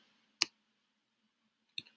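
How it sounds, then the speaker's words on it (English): Two computer keyboard keys are pressed for a Ctrl-C copy, giving two faint, sharp clicks about a second and a half apart in a quiet room. "your keyboard, it's going to be CTRL-C"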